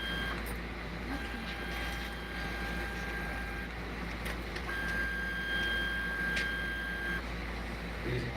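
Five-head tool changer 3D printer running slowly at a trade show, with a steady mechanical hum and faint whining stepper tones under a noisy, busy room.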